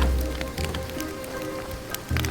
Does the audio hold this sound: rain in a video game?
yes